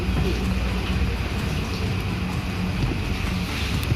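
Compressed air hisses steadily from the side of a Hino 500 truck relay valve, a loud, continuous broadband rush with no breaks over the few seconds.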